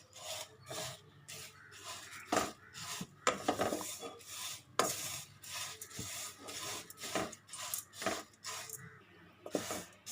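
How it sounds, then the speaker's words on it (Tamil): Red poha being dry-roasted in a kadai, heard as repeated dry rasping scrapes and rustling flakes as the spatula stirs, in uneven bursts close by. "ஒரு கடாயில் ரெண்டு கப் அளவுக்கு அவல் சிகப்பு அவல் எடுத்துருக்கேன் அதை நம்ம வறுத்துக்கலாம்"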